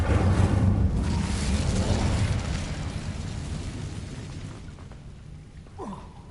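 An Incendio fire spell cast in Hogwarts Legacy: a loud, whooshing burst of flame that decays slowly over several seconds, followed by a faint, short rising magical tone.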